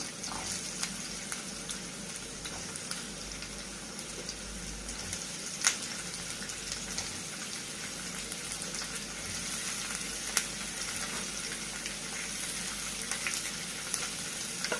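Onions frying in a pan for a restaurant-style paneer curry give off a steady, close sizzle, dense and unbroken, with a couple of sharp clicks from the pan and no talking.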